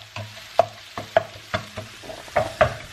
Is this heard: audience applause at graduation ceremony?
no